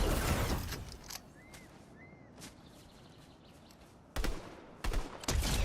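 A few sharp gunshot cracks in a Fortnite match, a burst at the start and three more near the end, separated by a quiet stretch with faint chirps.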